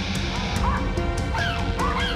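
Three excited dogs barking and whining in a kennel-type setting as visitors arrive, with sharp yips and whimpering calls repeating over a steady noisy background, close and loud.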